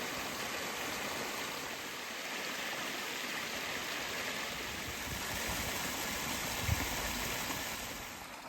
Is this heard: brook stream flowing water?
yes